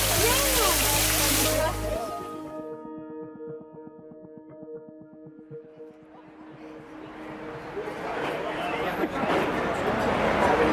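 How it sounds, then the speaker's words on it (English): A waterfall pours into a park pond where ducks swim, with a loud broad rush that fades behind a voice and humming tones, then swells again. "It's like being under the waterfall."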